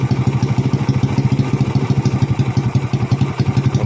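A motorcycle engine with a PE 24 carburetor idles steadily after the throttle is raised slightly, a close, even low-pitched put-put pulse with light mechanical clatter and no speech.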